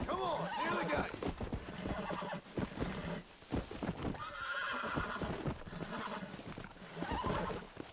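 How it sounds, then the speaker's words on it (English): A horse in the Red Dead Redemption video game neighs and whinnies repeatedly as it is broken, with hoof clops and someone talking over it throughout. "never try to break a horse next to a cactus."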